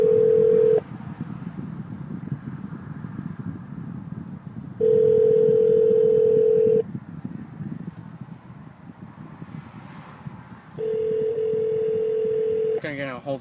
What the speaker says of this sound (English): Now let's see if we can call my grandma. And we press dial.